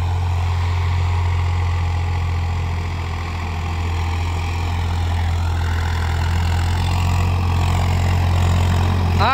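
A Swaraj 855 FE tractor pulling a cultivator through a field, its diesel engine droning steadily close by at working revs with a deep, even hum and no talk.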